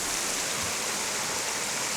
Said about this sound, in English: So there's a flow of water here, but it's not particularly big.